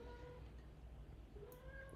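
Several house cats meow insistently in the early morning, their high, drawn-out cries rising over a steady low background hum, fairly close.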